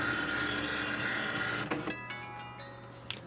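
An HP Envy 6052 printer runs a scan, giving a steady mechanical whir that stops partway through, followed by a quieter hum and a few small clicks and whines of the scanner motor, close by.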